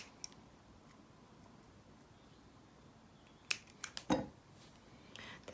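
Scissors snipping the thread tail on beaded earrings: a faint hushed room, then a few sharp, close snips and small clicks in quick succession near the end.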